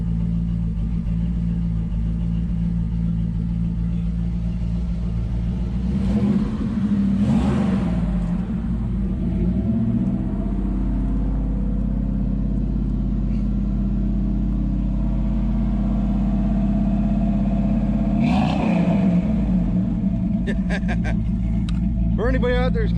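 A Dodge Charger's 600+ hp 505 stroker engine idles on its first start with a deep, steady rumble and revs up hard twice, loud and close, with people talking at times.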